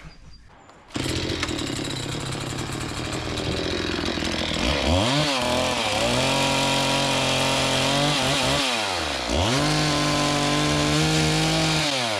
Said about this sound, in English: gonna cut down that one, dig up the stump, I'm gonna cut up this firewood